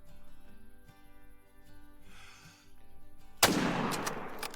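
A single rifle shot rings out at a gemsbok in the hunting game Call of the Wild, a sudden loud crack with a decaying tail after several seconds of quiet ambient background.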